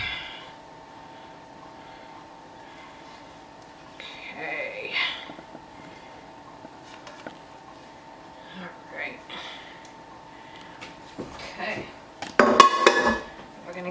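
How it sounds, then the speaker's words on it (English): Cheese is stirred into cooked noodles in a pot, giving soft scraping with a few clinks and a loud clattering burst near the end, over a low background hum. "Give this a nice big stirring. Get it all over those noodles."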